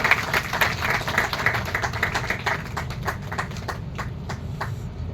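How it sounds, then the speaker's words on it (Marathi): An audience applauds the ceremonial lamp lighting at a citizens' right-to-information convention, a run of brisk overlapping claps that holds steady and then thins and softens toward the end. "आपण सर्वांनी टाळ्या वाजवून स्वागत करायचं आहे"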